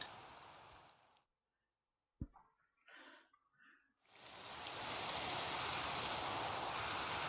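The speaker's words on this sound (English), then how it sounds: "Why is it raining here?" Rain falling in a Minecraft desert biome, a steady broadband hiss that fades out, leaves a gap with a few scattered sounds, then swells back in loud and continuous.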